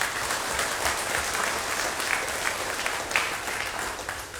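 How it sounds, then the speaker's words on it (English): Steady round of applause from the audience at an Australia Day awards and citizenship ceremony in North Burnett, a dense even clatter of clapping lasting throughout with a few louder bursts. "a big round of applause to all of"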